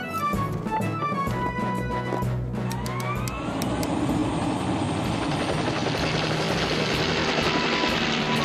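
A cartoon rescue helicopter spools up with a rising whine, then settles into a loud, steady rotor roar that fills the scene close by, with no talk over it.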